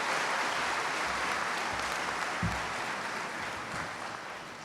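An audience at a college commencement ceremony applauding to welcome a speaker, a dense, sustained wash of clapping from many hands that fades slightly toward the end.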